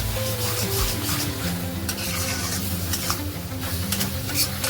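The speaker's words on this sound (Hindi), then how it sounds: "जब तक ऑयल रिलीज ना हो जाए आपको इसको अच्छे से कंटिन्यू स्टर करता जाना है स्पैचुला से" Paneer masala stirred and roasted with a spatula in a pan, giving a steady scraping and soft sizzle that runs continuously from start to finish with no talk.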